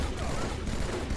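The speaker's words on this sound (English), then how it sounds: "Thank goodness the battle rifle is so awesome." Battle rifle gunfire in the game Halo 2 is a dense, continuous wash of rapid shots and combat noise, loud and close, in a very short burst.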